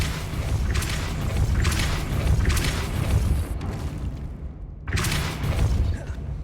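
A Depulso force spell cast in Hogwarts Legacy, heard as a few heavy whooshing booms in succession over a steady low rumble, with a short quiet gap before a final thump.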